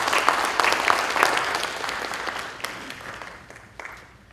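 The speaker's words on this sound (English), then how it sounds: "Let's give them a round of applause." Audience applause at a Georgia Senate study committee hearing on school safety in Chamblee, a dense patter of many hands that swells early, then thins and fades over a few seconds.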